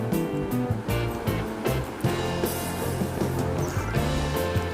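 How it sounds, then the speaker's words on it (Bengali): Hilsa fish head frying in a pan and being stirred with salt, giving a steady broadband sizzle with scraping under tonal background music, with no pauses. "এবার নুনটা দিয়েও ভালো করে আমি আর একটু নাড়াচাড়া করে ভেজে নিচ্ছি।"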